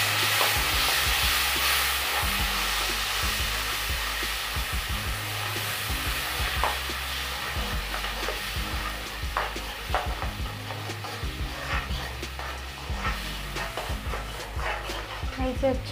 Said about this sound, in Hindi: अब ये जो हमने मसाला तैयार किया है, अब इसमें ये सारे मसाले ऐड कर देंगे। अब इसे भून लेंगे।